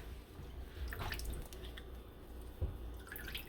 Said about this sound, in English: now we have your lemon. You have to squeeze it out in the water